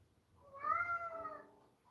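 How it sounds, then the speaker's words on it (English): A single cat gives one clear, drawn-out meow lasting about a second, close by and alone in an otherwise quiet room. "What's wrong with the cat?"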